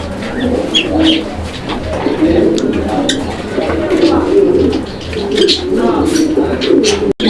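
A male fancy pigeon coos up close, with repeated low rolling calls running almost continuously and a faint voice in the background.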